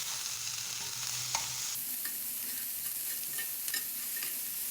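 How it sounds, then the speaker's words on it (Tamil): Sliced onions sauté in a hot iron pan, a steady soft sizzle running throughout with intermittent scraping stirs and light clinks of the spoon, close and fairly quiet. "வெங்காயத்தை நம்ம அதில் சேர்த்து வதக்கி விட்டுக்கலாம்"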